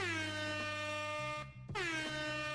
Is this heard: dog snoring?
no